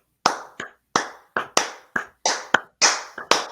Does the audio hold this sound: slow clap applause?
yes